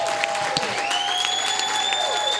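Steady, dense audience applause for panelists fills the room at close range, continuous and even, with a few faint tonal whistles riding above the clapping.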